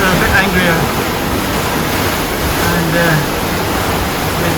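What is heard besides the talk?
rough sea waves and wind around a sailboat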